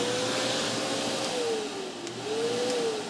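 An Oreck DutchTech DTX1400 vacuum cleaner runs steadily after being switched on, a loud continuous motor whine with a wavering pitch that dips and rises, close and alone with no talk.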